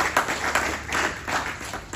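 Congregation clapping at a church question-and-answer session, a loud, steady patter of many hands in rhythmic surges throughout.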